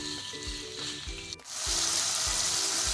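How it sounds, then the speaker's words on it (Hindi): Cubed chicken frying in a pan over a medium-high flame, a steady loud sizzle that swells sharply after a brief clatter, with soft rhythmic thuds of stirring underneath, close up and without speech. "अब चिकन को हम अच्छे से फ्राई करेंगे मीडियम टू हाई फ्लेम पे।"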